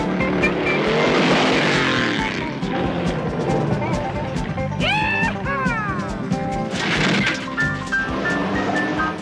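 A car from the 1978-79 Dukes of Hazzard TV series roars through a valley jump, its engine revving loudly with rising and falling whines and tire noise, with voices and a busy action-scene soundtrack mixed in.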